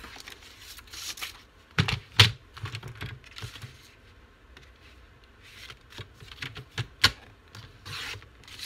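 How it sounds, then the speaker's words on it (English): Paper being cut for a winter journal folio, with a few sharp snips and scraping strokes at irregular intervals, close and fairly quiet, with no talking. "So I'm just going to cut this off."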